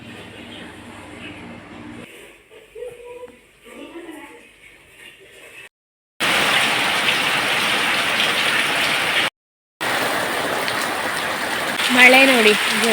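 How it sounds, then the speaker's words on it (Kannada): Heavy rain pours in a dense, loud hiss for several seconds, cut by a short break, after quieter talk and background sounds at the start; a voice rises over the downpour near the end. "ಮಳೆ ನೋಡಿ, ಜೋರು ಮಳೆ."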